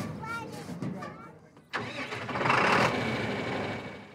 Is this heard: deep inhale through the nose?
no